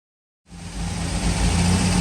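A Klein Vintage Greenbean car's engine starts up after a moment of silence and settles into a steady, close running drone with a low hum that grows slightly louder, with no voices over it.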